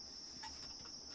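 A studio synthesizer produces a faint, cricket-like chirp: a steady, thin high-pitched trill holding unbroken over a quiet background.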